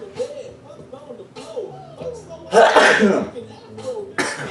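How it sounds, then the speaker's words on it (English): A loud, sharp sneeze bursts out close to the mic, with a person speaking before and after it. "hold on, I gotta freaking sneeze"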